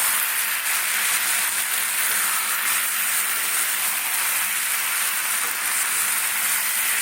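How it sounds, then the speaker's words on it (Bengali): Spices and new potatoes sautéing in a pan, a dense, continuous hissing sizzle that stays loud and even throughout, close up and alone. "এইভাবে কষাতে থাকবে।"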